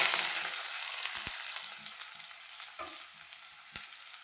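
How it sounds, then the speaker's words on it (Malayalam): Chopped onion sizzles in hot coconut oil in a clay pot, a close, even crackle that slowly softens, broken by a few stirring clicks and taps; no one speaks. "കടുക് പൊട്ടി വന്ന് അതിലേക്ക് അരിഞ്ഞ് വെച്ചേക്കണേ ഉള്ളി ഇട്ട് കൊടുക്കാം"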